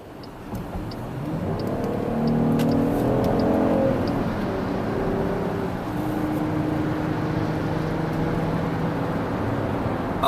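A 2017 Chrysler Pacifica minivan with a Pentastar 3.6-liter V6 accelerates on the road, the engine note rising in pitch through the gears, then settling into a steady cruising hum with road noise, heard from inside without talk.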